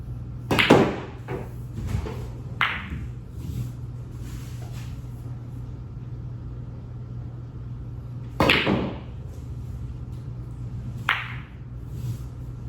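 A Crical Pro 1 billiard cue strikes balls on a pool table, with a few sharp, separate clicks and knocks over a low steady room hum, fairly close with quiet gaps between shots.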